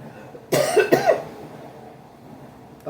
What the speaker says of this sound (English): I don't want to annoy you with my cough